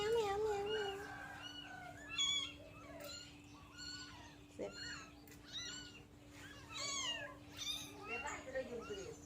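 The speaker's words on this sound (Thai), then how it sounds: "แมวแมวแมวแมวให้มันคุ้นเสียงแม่" Cats meow repeatedly in a home, with several rising and falling calls across the stretch, fairly close, while a person talks over and between the meows.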